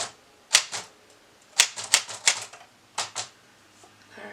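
An old typewriter with a worn ribbon tapping out a short word on paper, a handful of crisp, separate key strikes in small clusters with quiet pauses between, close and clear.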